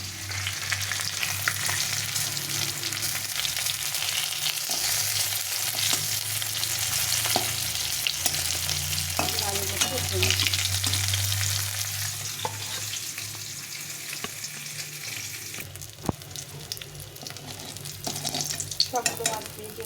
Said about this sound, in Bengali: মাছগুলোকে ভালো করে ভেজে নিতে হবে।